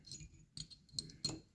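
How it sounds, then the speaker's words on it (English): Small metal transmission keys dropping one after another into a main shaft hub during a C5 Corvette T56 gearbox rebuild, giving four faint, sharp metallic clinks spaced roughly evenly, close by on a quiet bench. "the new keys drop into the hub,"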